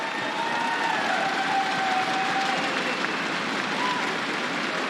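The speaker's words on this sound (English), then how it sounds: "Big round of applause, guys." A large crowd at the Raleigh Major 2019 championship esports event applauds and cheers in a steady, dense wash of clapping and voices that holds at an even loudness throughout.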